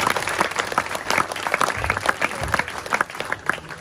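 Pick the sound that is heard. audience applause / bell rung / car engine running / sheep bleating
audience applause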